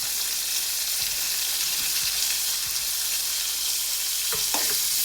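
Onion, tomato and ginger-garlic paste stirred in a pan for an aubergine gojju, a steady close sizzle of frying with soft scraping strokes of the spoon throughout.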